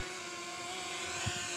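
A drone's propellers hum in flight over a city, a steady, fairly loud buzzing whine that holds constant throughout with no speech.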